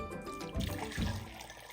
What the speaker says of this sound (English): I'll go ahead and pour it in.